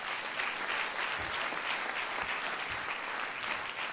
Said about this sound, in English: how about a round of applause for everybody up to this point?